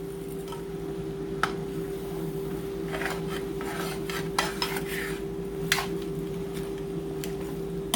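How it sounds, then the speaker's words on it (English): Cornbread casserole ingredients are stirred together in a dish, giving a steady scraping and rubbing of a utensil against the pan with a few sharper clinks over a constant hum. "you're going to take it and you're going to stir everything up"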